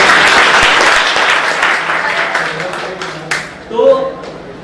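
Audience applause at a Hindi poetry recital: a dense, loud burst of clapping that gradually thins and fades, with a voice starting to speak near the end.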